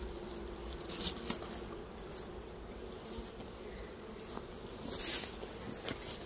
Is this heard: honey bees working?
yes